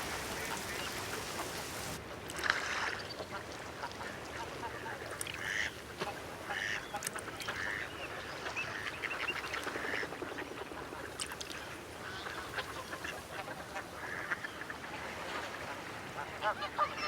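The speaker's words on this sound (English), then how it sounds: "At high tide, the shelduck congregate on land to rest." Shelducks, other ducks and geese call from a coastal shore at high tide, with overlapping quacks and honks at middle distance over steady wind and ambient hiss.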